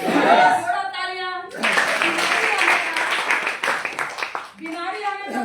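An audience claps together during a Hindi health talk, a broad burst of applause in the middle between stretches of a speaker's voice at the start and end.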